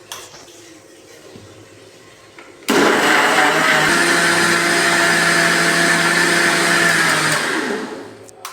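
A kitchen mixer grinder in a Kerala home whirs loud and steady for about five seconds after a quieter start, its motor note holding even before spinning down near the end.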